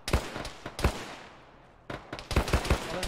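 Bursts of gunfire ring out in the ShackTac military sim video game, several sharp shots in quick clusters separated by a brief quiet gap, fairly faint overall.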